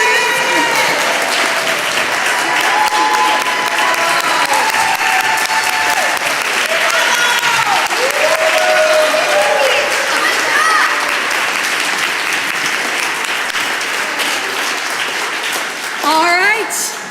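Loud, sustained applause from a synagogue congregation during a Shabbat service, dense clapping that runs on with cheers and voices mixed in, and a brief spoken word near the end.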